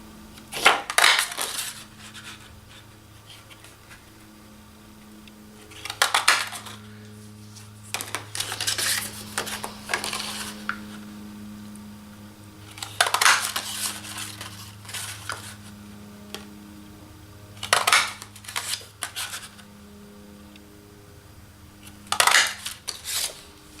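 A 1.5 inch circle punch cuts circles from cardstock, giving about five clacking, crunchy bursts several seconds apart. A quiet hum fills the gaps between them.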